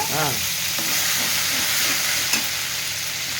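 Bagara masala spices sizzling loudly in hot oil in a pan for a fish curry, a dense continuous close hiss with faint stirring knocks, no talk.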